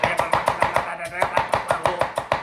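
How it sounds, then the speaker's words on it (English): A knife chops a carrot on a cutting board in a fast, steady rhythm of about a dozen close, crisp knocks, with no talk over them. "And you continue to cut things up. Carrot."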